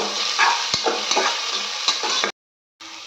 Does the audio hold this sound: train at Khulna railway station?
no